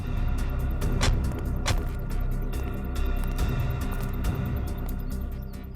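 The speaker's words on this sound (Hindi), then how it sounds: "एसीपी साहब की गाड़ी।" A car belonging to a police officer pulls in during a crime drama scene, its low engine rumble steady and moderately close, with a few sharp clicks and knocks over it.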